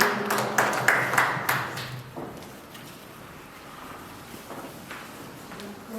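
A handful of sharp claps from an audience at a felicitation gathering for Sister Pushpa, a short burst of separate hand claps that quickly fades into quiet room noise.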